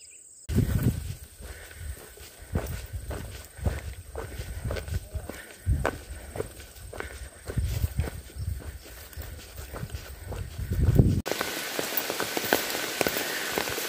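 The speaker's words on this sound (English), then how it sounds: "it is raining" Steady rain patters on a surface nearby at a trail shelter on the Appalachian Trail, with irregular heavier drips and some shuffling movement through it.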